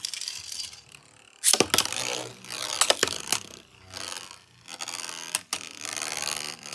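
A full-size left-spin Beyblade and a Micro Zutron Z2 are ripcord-launched into a stadium: a sharp ratcheting launch burst, then clattering clicks and scraping as the tops spin and collide, in uneven bursts with quiet gaps.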